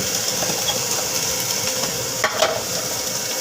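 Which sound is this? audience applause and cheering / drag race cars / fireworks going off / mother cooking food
mother cooking food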